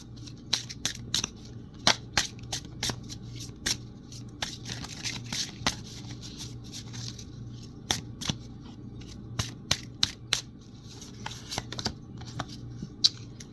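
Oracle cards being shuffled by hand during a chakra-themed reading, a series of crisp, sharp riffling snaps spread irregularly across the span over a steady low hum, with no talk.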